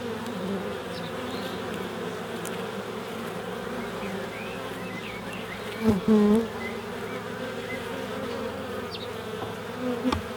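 Honeybees buzz around an open hive during a hive inspection, a dense, steady hum close by that runs throughout with no talk, swelling briefly midway as individual bees pass near.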